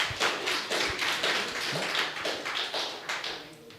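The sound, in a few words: hand clapping after a thesis defense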